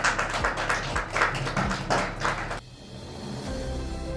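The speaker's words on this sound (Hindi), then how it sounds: "एक बार जोरदार तालियां।" An audience at a national village empowerment award ceremony breaks into applause, dense clapping in several rhythmic bursts that suddenly stops, leaving a quiet room hum.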